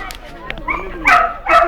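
A dog in Ootty yaps and barks in short, loud bursts close by, the final two yelps sharp and strained, with people talking around it.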